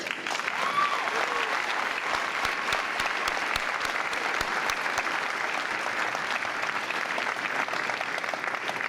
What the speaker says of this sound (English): please give the parents, families, and friends gathered here today a very good round of applause